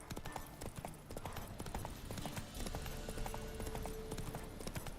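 Hooves of Roach the horse in The Witcher 3, a steady clip-clop of trotting hoofbeats, close and continuous, blended with background game sound throughout.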